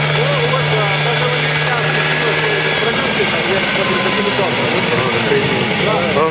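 A homemade helicopter's engine drones steadily and loudly with a pulsing rotor beat, running continuously close by while people talk over it.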